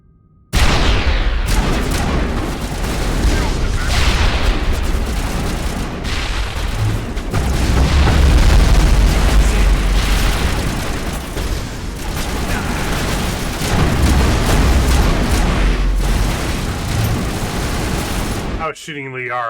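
Heavy gunfire and repeated booming grenade explosions in the Mass Effect 1 video game, a loud, dense, continuous barrage lasting most of the stretch with no pause, cut off sharply near the end.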